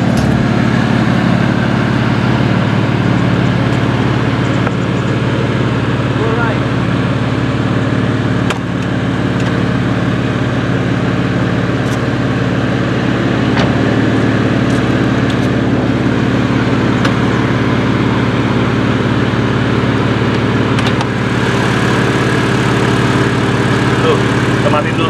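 A 2500 cc six-cylinder engine idles in a BMW E93 325i convertible with the hood open, holding a steady close drone under occasional talk.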